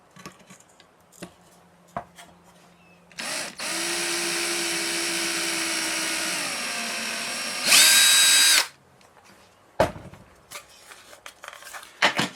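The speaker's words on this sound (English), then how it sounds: "drill with a 1/8 bit. We're going to put a hole through the base of this body panel" A power drill with a 1/8 inch bit whines steadily for several seconds, rises to a sharper high-pitched burst as it bites through a plastic camera body panel, then stops, with scattered clicks and handling noises around it.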